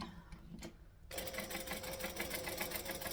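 A sewing machine stitches a magnetic snap tab, starting after a second of quiet with a few faint clicks, then running in a fast, steady, continuous whir close by.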